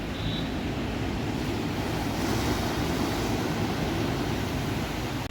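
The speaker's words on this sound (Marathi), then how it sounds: "भरतीचा टाइम आहे म्हणून एकदम लाटा जोरात येत आहेत" Continuous heavy roar of high-tide surf and wind at Vengurla, dense and unbroken throughout, with strong waves crashing nearby and steady buffeting noise.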